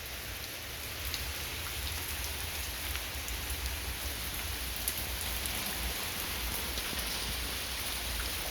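Steady moderate rain falls outdoors onto a wet Jeep, rocks and water buckets, making a dense, even patter of drops that holds at the same level throughout with no voices.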